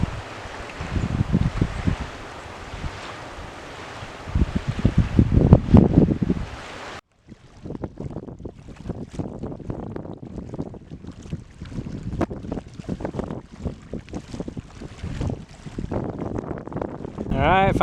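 Wind blows hard outdoors by Vernon Reservoir, with loud gusty rumble against the microphone, a brief lull midway, then steady buffeting again while a voice talks at times.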